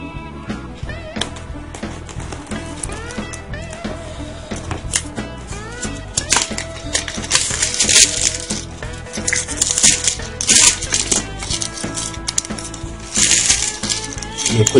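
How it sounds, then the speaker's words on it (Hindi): Crinkly tearing and rustling of a sealed plastic packet being opened from a Lenovo Phab 2 phone box, with dense close handling clicks and taps that grow busier and louder toward the end. "ये खुल गया पैकेट, साइड में रखते हैं।"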